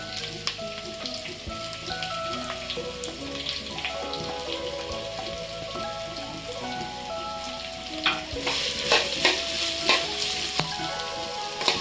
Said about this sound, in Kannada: ಚೆನ್ನಾಗಿ ಕಂದು ಬಣ್ಣ ಬರೋವರೆಗೂ ಫ್ರೈ ಮಾಡ್ಕೊಳ್ಳಿ.